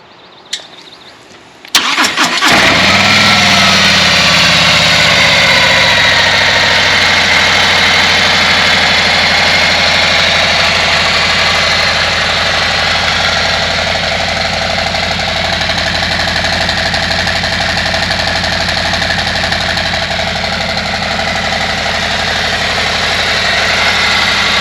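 A 2024 Harley-Davidson Road Glide motorcycle engine cranks and fires after a brief quiet moment, then settles into a loud, steady, close idle that rumbles on without pause.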